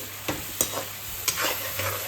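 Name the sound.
frying food in a pan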